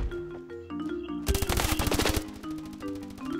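Automatic rifle fire in the mobile shooter Standoff 2 crackles in rapid bursts, a brief lead-in of clicks and tones giving way to a loud, fast stream of close shots that tapers into lighter repeated firing.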